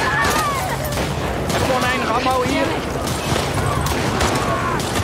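Gunfire in The Last of Us Part 2 video game: a dense, continuous battle mix with several sharp shots cutting through, heard under a person talking and other busy in-game sounds.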